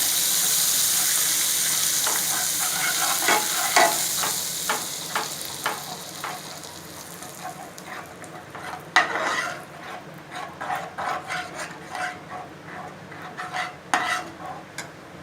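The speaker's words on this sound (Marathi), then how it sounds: "त्याच्यात एक चमचाभर आपण बटर घालतोय बटर घातल्यानंतर त्याला चांगलं मिक्स करून घेऊया" A spoonful of butter is stirred into a butterscotch ice cream mixture in a pan over a low flame, with a soft sizzle that fades under repeated scraping and clinking of a spoon against the metal.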